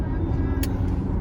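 Car interior while driving, a steady low engine and road rumble filling the cabin, close and continuous, with no talk.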